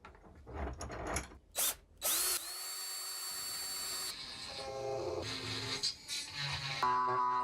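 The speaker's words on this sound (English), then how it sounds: "We have to mill the top part and inside the chamber, and then also drill holes as shown here." Power drilling holes in a Glock 19 pistol frame: a sustained high whine broken by brief stops and restarts, with short bursts of grinding and clicking, close up.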